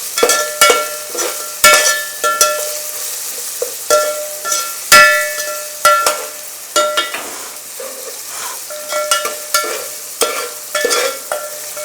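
Ginger garlic paste and masala for a Telugu-style home mutton biryani fry in a pan, with a steady sizzle broken by repeated clattering stirs and scrapes of a spoon in an uneven rhythm, close and loud, with no talk.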